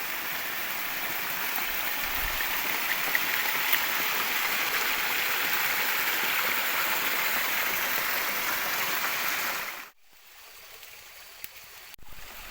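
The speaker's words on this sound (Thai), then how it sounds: "ตอนนี้ฝนยังไม่หยุดตกนะครับ" Steady rain falls in a forest during a stormy solo hike, a dense even hiss of drops close by that cuts off suddenly near the end before briefly resuming.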